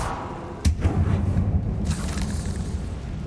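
A sharp blast from the Confringo fire spell in Hogwarts Legacy bursts out with one sudden crack, then a rumbling roar that rolls on and slowly fades.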